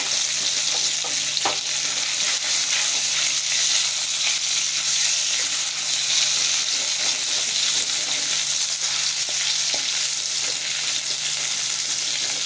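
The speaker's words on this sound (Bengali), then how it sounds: "একবার একটু নাড়িয়ে দিই। তেলটা লাগিয়ে দিই সব জায়গায়।" Eggplant slices fry in hot oil in a pan and are stirred, giving a loud, steady, close sizzle that fills the whole clip with occasional small scrapes and no talking.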